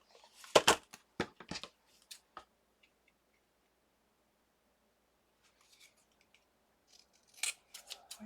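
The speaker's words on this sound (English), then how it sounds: "Let me give it a trim." Scissors trim paper ephemera for Christmas crafting, several crisp close snips in a quick cluster, then a long quiet gap before another short run of cuts.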